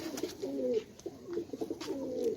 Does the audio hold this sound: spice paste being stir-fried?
no